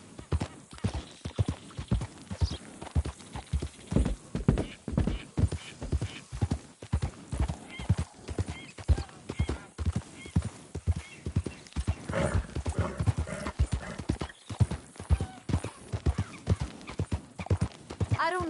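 Steady clip-clop of a horse's hooves at a walking rhythm in the video game Red Dead Redemption 2, close and continuous, with the horse whinnying and a voice speaking over it.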